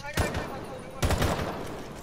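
Machine gun fire in the Rainbow Six Siege video game rattles out in two dense bursts about a second apart, close and loud over a constant busy game background.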